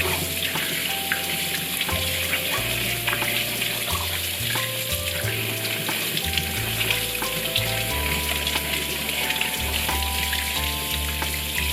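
Water runs steadily from a tap as a coffee glass from a Staresso SP200 portable espresso maker is rinsed, a continuous hiss with faint clinks of glass, mixed under soft background music.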